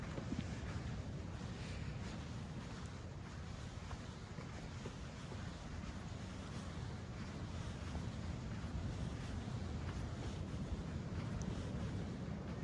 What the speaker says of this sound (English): maybe it is the waves. That's loud.